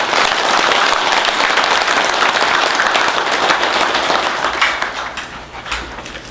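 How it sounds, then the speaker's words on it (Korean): Loud, dense applause from an audience at a Buddhist college graduation ceremony, sustained clapping that tapers off in the final seconds. "박수를 한번 보내주시기 바랍니다"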